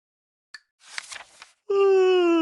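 A voice imitates a cat stretching and yawning loudly for a Puss in Boots story sound effect: a short click, a breathy rising stretch, then a long, loud, tonal wail that slowly falls in pitch.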